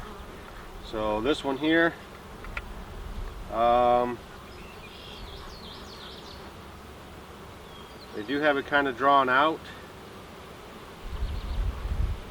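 Honey bees buzz in an opened beehive in a quiet steady hum while someone talks close by in short phrases.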